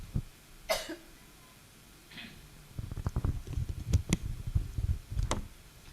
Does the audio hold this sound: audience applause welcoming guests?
no